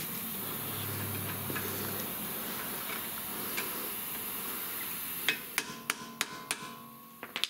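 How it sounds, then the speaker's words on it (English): A brake disc is tapped to loosen it from the hub, with a quiet background hiss giving way to a series of about eight sharp metallic taps in an uneven rhythm near the end, close and clear. "Tap the disc a little bit to loosen it up a little bit."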